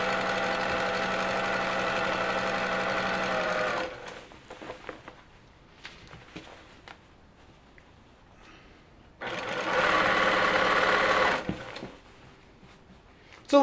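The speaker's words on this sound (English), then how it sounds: "A little bit of a longer run of sewing" A sewing machine runs along the side of a cape in two bursts of fast, steady stitching whir, close up. A quiet pause with small handling clicks separates them.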